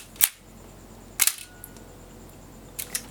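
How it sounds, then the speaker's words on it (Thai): A camera shutter heard from behind the camera fires three crisp, sharp clicks about a second apart, the last a quick double, close and clear over a faint steady hum. "คนด้านหน้าที่ได้ยิน เสียงชัตเตอร์ก็จะเป็นอีกเสียงหนึ่ง"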